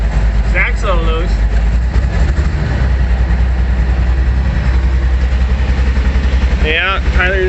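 A vehicle engine idling in winter, a steady low rumble that runs the whole time, with people talking over it now and then.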